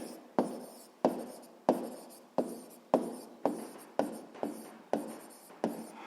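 A pen writing on paper up close, giving about ten evenly spaced scratchy strokes, each starting sharply and trailing off, while the setting stays quiet and no one talks.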